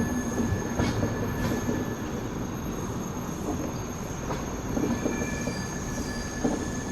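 A Duronto express train passes on the railway, a loud close rumble of wheels with rhythmic clacks and metallic squeal, steady throughout with no talk.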